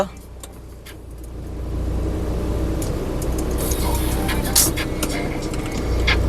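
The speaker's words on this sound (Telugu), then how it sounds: "సింగిల్ సెల్ఫ్లో కార్ స్టార్ట్ అవుతుంది ఎటువంటి స్టార్టింగ్ ట్రబుల్ అయితే లేదండి" A 2016 Renault Duster RXL car engine turning over on a single crank and settling into a steady, low idle rumble that grows slightly louder, heard close by.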